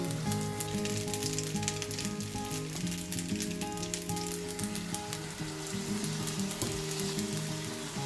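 Pasta tossed with meatball sauce in a pan, giving a steady sizzle and frying crackle under constant stirring, with soft scraping accents throughout and no voices.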